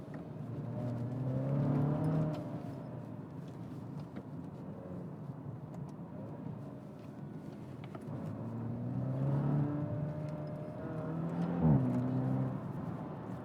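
A 2021 Maserati Ghibli Hybrid driven through a series of bends with its suspension in the stiff setting, the engine note rising and falling steadily from inside the cabin, with a brief thump near the end.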